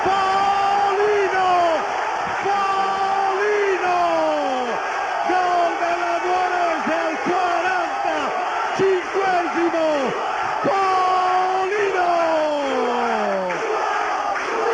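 A football crowd roars and chants loudly after a Nuorese goal at the Quadrivium stadium, a sustained wall of cheering with whoops and yells, while a commentator shouts over it.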